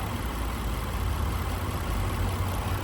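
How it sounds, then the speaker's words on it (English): A 2018 Range Rover Sport HSE Dynamic engine idles steadily up close, a smooth continuous rumble with no revving and no voices. "This is a happy Range Rover engine. This is how they sound when they're running."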